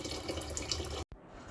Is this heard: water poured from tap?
yes